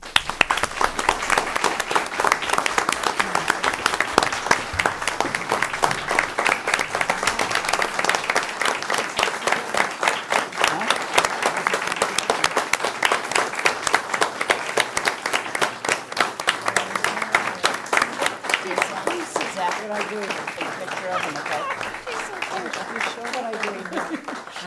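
Long, sustained applause from a school committee meeting audience, dense steady clapping that holds loud for over twenty seconds before tapering slightly, with scattered voices mixed in.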